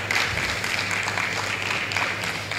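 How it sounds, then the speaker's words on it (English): An audience at a conference applauds a speaker with a continuous wash of clapping that stays fairly loud, with a low hum underneath. "A round of applause, please."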